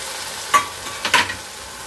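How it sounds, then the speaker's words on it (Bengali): A spoon stirring tomato paste in a hot pan, two short scraping strokes over a faint background sizzle. "আবার 30 সেকেন্ডের মতো ভালো করে নেড়ে নেব, টমেটোর কাঁচা গন্ধটা না যাওয়া অবধি"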